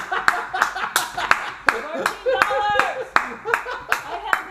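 Hand clapping during a family Monopoly game, a series of sharp, uneven claps close by, mixed with excited talking and a little laughter.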